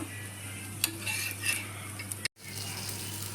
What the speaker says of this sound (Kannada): ಈಗ ಇದ್ರ ಮೇಲೆ ಒಂಚೂರು ಬೆಣ್ಣೆ ಹಾಕ್ಕೊಂಡ್ಬಿಟ್ಟು ದೋಸೆನ ಮಡಚಬೇಕು